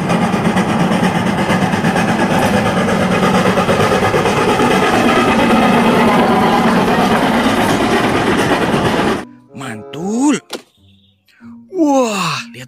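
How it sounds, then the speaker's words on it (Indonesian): A loud train rumbles past close by with continuous clattering and engine roar, then gives way to quieter squeaky sounds and brief voices. "Wih, kereta api teman-teman."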